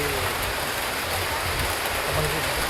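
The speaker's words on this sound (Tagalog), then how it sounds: "Lakas ng ulan." Heavy rain pours down steadily in a dense, loud hiss that fills the whole clip without a break.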